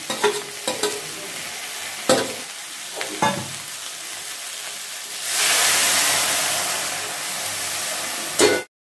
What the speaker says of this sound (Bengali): সবজিগুলো যখন সব ভাজা ভাজা হয়ে যাবে আমি বেগুনটা আর বড়িটাও দিয়ে দিচ্ছি